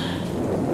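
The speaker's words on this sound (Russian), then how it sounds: "А вот и дождь пошел." In a puppet show, stage rain and thunder play as a brief burst: a low rolling rumble beneath a steady hiss of falling rain, loud and close, with no voices.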